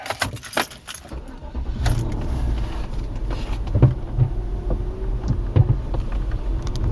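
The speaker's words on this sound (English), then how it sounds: "let's power the car up and get her going." Keys jingle, then a Cadillac comes to life with a low rumbling hum and a few clicks and thumps close by.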